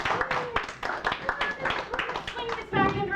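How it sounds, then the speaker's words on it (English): Studio audience applause as a guest comes on set, scattered, uneven clapping with people talking over it throughout. "Round of applause for Chris Madden, please."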